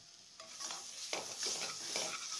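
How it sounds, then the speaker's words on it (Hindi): Paneer pieces stirred into sizzling masala in a pan for a paneer magaj dish, with a steady frying hiss and soft scraping strokes, close and fairly quiet, no talking. "मसाला भून जाने के बाद उसमें कटी हुई पनीर के टुकड़े डाल दीजिए।"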